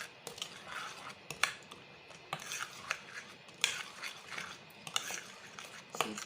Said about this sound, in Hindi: चलो तो फिर से हम इसको अच्छे मिक्स कर लेते हैं।